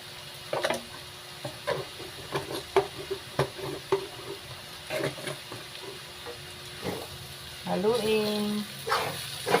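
Milkfish stuffing is stirred in a frying pan, soft scraping strokes and a light sizzle close by, with a dog barking briefly and some faint background noise.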